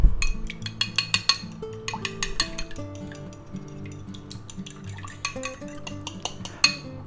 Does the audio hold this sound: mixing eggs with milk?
yes